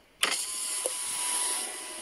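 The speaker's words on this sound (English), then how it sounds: "we can open up the window all the way" A truck's power window opens in the Truck Simulator Ultimate game: a soft click, then a steady electric motor whine that runs unbroken for nearly two seconds, heard alone and fairly close.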